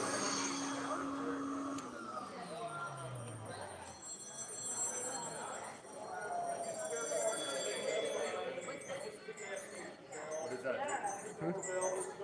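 Vacuum-powered LEGO engine running at a brick convention, a steady mechanical whir and clatter with light clinking, underneath ongoing crowd chatter and nearby talk.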